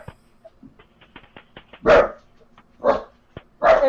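A dog barks three times in loud, separate bursts spaced about a second apart, after a stretch of soft clicks and faint rustling.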